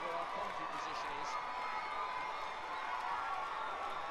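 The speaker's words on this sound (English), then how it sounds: "he is getting a massive reception from the crowd" A large crowd roars and cheers for a runner passing the main grandstand at the World Cross Country Championships in Kampala, a steady wash of noise throughout, with a commentator talking over it.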